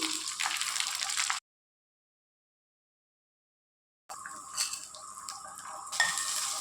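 Cumin and coriander dry roasting in a pan, a soft close rustling sizzle with light stirring that cuts out to total silence for a few seconds before resuming.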